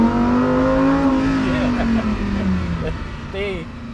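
A Lamborghini Huracan STO track car revs its engine in a loud, sustained tone that slowly drops in pitch, with brief higher blips near the end.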